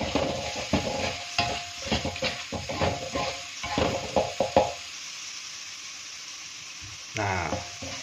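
Food frying in a pan on a stove while soto ceker is cooked, a steady hiss running under the whole clip with clinks and stirring taps over the first half, then a brief louder burst of sizzle near the end.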